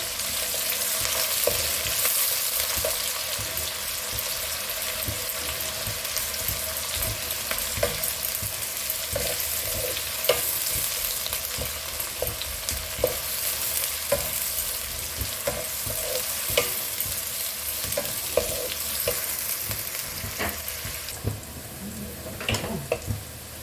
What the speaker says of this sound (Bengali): এটাকে আমি ভালো করে ভাজবো।